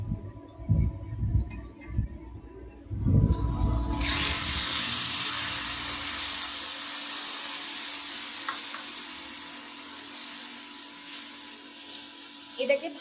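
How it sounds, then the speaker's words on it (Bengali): Potatoes and watery spice paste added to a hot wok, bursting into a loud, sustained sizzle that gradually settles, preceded by a few clunks and handling noises, close by with no talk. "এটাকে ভালো মতো কষাবো এখন, যতক্ষণ না পর্যন্ত টমেটোগুলো গলে আসছে।"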